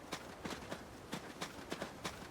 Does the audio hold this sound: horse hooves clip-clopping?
yes